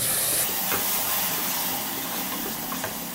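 A steady, loud hiss of sizzling as tomato puree hits a hot pan for aloo curry, continuous for a few seconds with small crackling pops.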